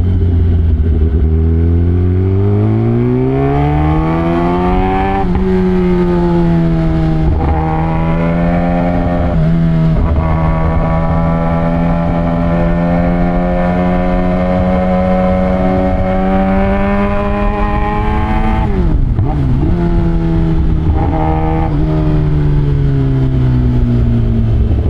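A Kawasaki ZX-10R sport bike's engine revs loudly and steadily while being ridden, its pitch climbing and holding high with brief throttle dips near the end, with no talking.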